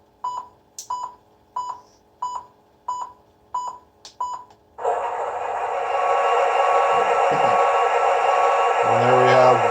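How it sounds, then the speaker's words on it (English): A powered-up model train gives out a steady run of short, evenly spaced electronic beeps, about eight in a row, before a louder continuous hum and rumble from the locomotive's sound system takes over. "we have the distinct beeping sound"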